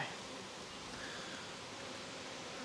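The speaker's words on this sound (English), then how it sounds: "All these bees flying around that you guys can probably hear on camera" Honey bees fly around an open hive at an apiary during a full inspection of a queenless colony, a dense, steady, close buzzing swarm drone that fills the whole stretch without pause.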